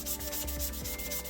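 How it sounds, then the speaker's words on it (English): Wet sandpaper worked over a model car body, rubbing in quick, rhythmic back-and-forth strokes heard up close and fairly loud, alone without speech. "the complete body was wet sanded until 7000 grit"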